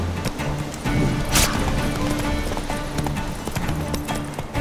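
Horse hooves gallop steadily in The Witcher 3, a rapid rhythmic clip-clop heard up close under game music and ambient noise throughout.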